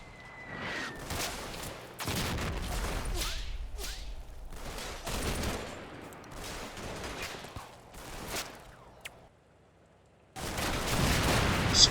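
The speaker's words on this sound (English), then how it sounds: "And the section opens fire" Rifle and small-arms gunfire in the WWII game Combat Mission, Operation Epsom battle at Mondrainville: repeated loud sharp cracks and bursts with whooshing reports, irregular volleys over about twelve seconds, a brief lull near the end before firing resumes.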